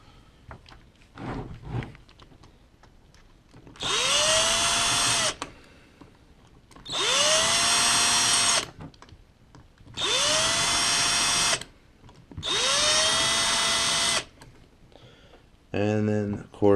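A power drill drives screws into CNC router carriage plates, four loud bursts of whirring, each spinning up to a steady pitch then stopping, separated by brief quiet with faint handling noises and a short final burst.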